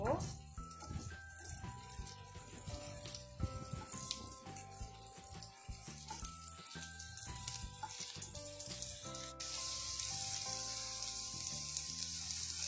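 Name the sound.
plantain slices frying on a nonstick tawa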